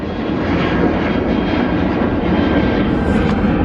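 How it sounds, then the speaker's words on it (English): A fixed-wing airplane passes overhead as a steady, loud broadband roar of engine noise, holding nearly constant through the moment with no talking. "There's a plane going by."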